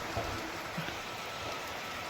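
Steady rain patters continuously at moderate volume, an even hiss with no talking.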